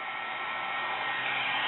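A heat tool blows a steady, loud, continuous whoosh while melting embossing powder on a mixed media piece, with no voices.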